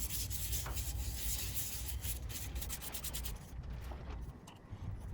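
Steady broadband sanding noise from a spinning corkscrew willow workpiece on a wood lathe, 120-grit, continuous and fairly close, with a constant low motor hum underneath and no talking.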